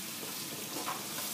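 Chicken pieces with crushed garlic frying in a pan, a dense continuous sizzle close up with soft stirring movement, no talking.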